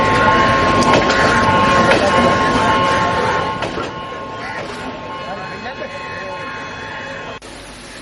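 A train runs along a railway line in steady clickety-clack, loud at first and then easing off. A tonal hum sits over it before it cuts out abruptly near the end.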